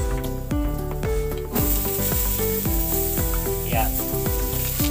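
Onions sizzle in a frying pan during adobo cooking, a steady bright hiss that runs under louder background music throughout.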